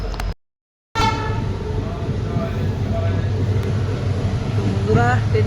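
A train at a railway platform near Alipurduar, with a rumbling engine and a steady drone after a brief cutout, a horn-like tone near the end, and voices in the background.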